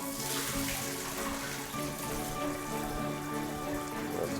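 Soaked nuts are rinsed under running water, a continuous splashing rush of a tap pouring and sloshing through them, close and steady with no talking.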